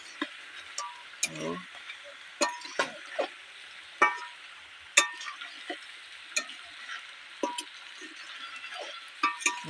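Fish and fried potatoes being stirred in a wok, with a soft sizzle underneath sharp, repeated scrapes and clinks of a spatula against the metal pan.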